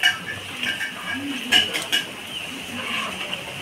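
Kachur loti (taro stolons) and fish head being mixed by hand with mustard oil in a bowl, giving soft squishing and light clinks close by, fairly quiet and continuous.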